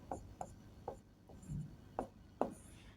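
Marker or chalk writing on a board during a hexadecimal maths lesson, a handful of short, crisp scratchy strokes spaced irregularly, fairly close and quiet in an otherwise hushed room.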